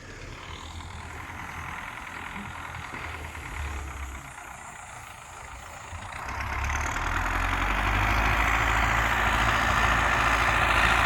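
An MTZ tractor engine idles with a steady low rumble that grows louder and fuller partway through, close by with no voices.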